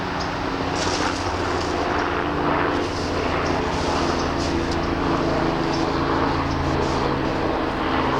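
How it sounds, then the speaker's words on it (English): Steady, loud engine roar of a helicopter passing overhead, a continuous rumbling drone with no talking. "Let this helicopter go by."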